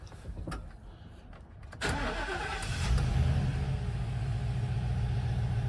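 A 2017 Ford E-350 box truck with a 6.2-liter flex fuel V8 cranks briefly and fires up, settling into a steady, moderately loud idle recorded from nearby.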